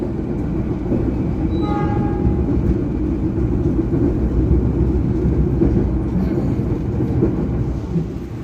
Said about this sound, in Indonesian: Perjalanan kereta api Harina saat ini berhenti di stasiun Padalarang